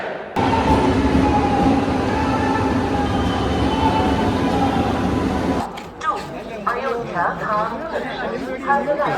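A crowded Aastha special passenger train to Ayodhya rumbles steadily with a continuous low roar, then the noise drops and a crowd of passengers chatters close by.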